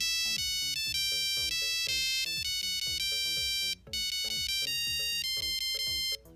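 A custom-composed ringtone plays on a Nokia 3410 mobile phone, a bright, clear monophonic melody of rapid beeping notes running continuously with two brief gaps, loud and close with no voices.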